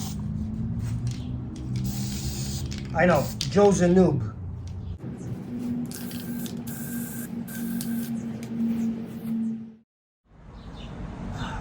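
Bursts of hissing spray from an aerosol paint can come in steady stretches, close by, with someone talking over parts of it and a brief silent gap near the end.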